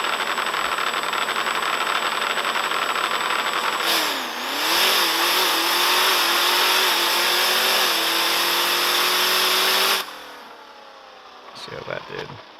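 A Dodge RAM truck on a drag run accelerates hard, its engine note climbing steadily through gear changes for about ten seconds, then cutting off abruptly before some faint talk.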